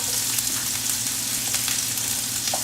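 Sliced white onion and ginger hit a hot pan for a chicken stir-fry, producing a dense, loud, steady sizzle close by with faint stirring movement and no speech.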